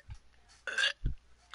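A single loud, wet burp rises in the middle, framed by a few faint short thumps and quiet background game sounds.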